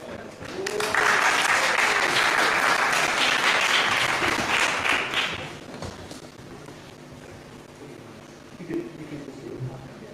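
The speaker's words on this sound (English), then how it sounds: "Okay, again, big applause for Elena Peneva." A theatre hall audience at a pitch event bursts into loud, dense applause that holds for several seconds, then fades out, followed by scattered quieter sounds and a voice.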